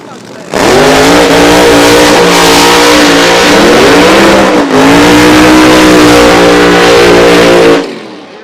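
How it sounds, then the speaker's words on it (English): A drag racing car does a burnout at Toronto Motorsports Park during the Nitro Nationals, its engine roaring very loud and close for about seven seconds. The roar dips briefly midway, then surges on before cutting off. "beautiful, beautiful, beautiful burnouts in the beautiful light, sunlight."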